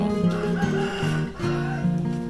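Chickens in a backyard coop in Vietnam cluck and call while a rooster crows in long drawn-out notes. The calls are close and loud and overlap in a continuous run with a brief dip midway.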